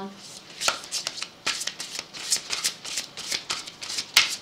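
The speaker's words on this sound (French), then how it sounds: "Donc je pousse mes cartes et je mélange." Tarot cards are pushed together and mixed by hand, giving close, soft rustling and flicking bursts in an irregular rhythm, with the occasional sharper riffle.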